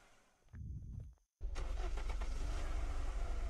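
A car in the Unturned video game cranks briefly, cuts out, then starts and settles into a loud, steady mid-pitched engine idle, with no talking over it.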